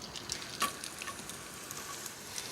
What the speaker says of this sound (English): Shallots into the pan.